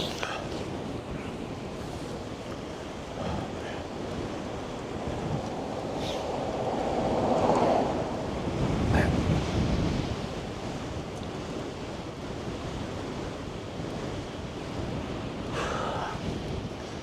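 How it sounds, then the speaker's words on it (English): Continuous broadband wind roar battering the microphone while cycling into a headwind on a road ride in New Mexico, steady and loud throughout with slight gusting swells. "Yeah, this is definitely a headwind."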